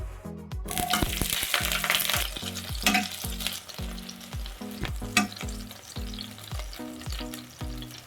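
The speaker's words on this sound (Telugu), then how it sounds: "ఇప్పుడు అదే బాణీలో 1 టేబుల్ స్పూన్ ఆయిల్ అయితే వేసుకొని ఇంకా పచ్చిమిర్చి, టమాటో, ఉల్లిపాయ అయితే వేయించేసుకుందామండి" Green chillies, tomato and onion fry in oil in a pan with a steady sizzle, crossed by regular scraping strokes of a spatula against the metal; close and fairly loud, no voices.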